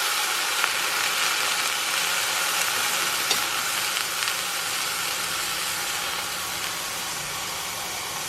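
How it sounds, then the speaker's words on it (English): A thin Steak-umm meat slice sizzles steadily in a hot pan, a dense, continuous frying crackle close up with no talk. "Ooh, check out that sizzle."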